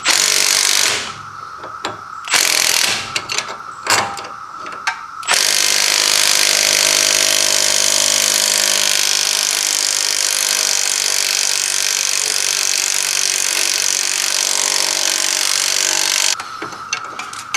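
Pneumatic impact gun running in reverse, working loose the lock nuts on the front sway bar end links of a 2010 Lincoln MKT. Several short bursts of loud hammering come first, then one long sustained rattling run.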